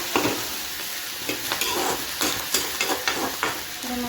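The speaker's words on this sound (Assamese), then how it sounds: "মাছৰ কণীটো ভাজি আছোঁ" Fish roe fries in a pan with a loud, close crackling sizzle and frequent sharp spatters and stirring scrapes that come in uneven bursts throughout.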